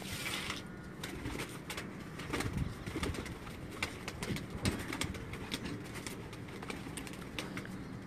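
Garla-breed pigeons coo softly in a low, murmuring chorus, with scattered clicks and rustles of birds moving about nearby in a cage.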